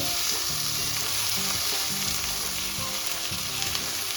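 Sprouted moth beans tossed in hot oil, giving a loud continuous sizzle and crackle throughout, with a stirring spoon scraping the pan in slow strokes, close and dense with no voices.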